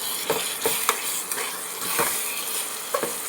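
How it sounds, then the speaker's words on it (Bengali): Bottle gourd curry (lau ghonto) cooked with raisins in a pan on an induction cooker, stirred with a few spaced scrapes and light utensil clinks over a soft hiss, close and with no talking. "দেখো হয়ে গেছে, নাড়াচাড়া করে"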